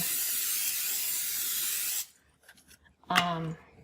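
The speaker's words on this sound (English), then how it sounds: "So put cooking spray on into your pan." A continuous aerosol hiss of cooking spray into a pan for about two seconds, close and steady, then it stops and a brief voice follows.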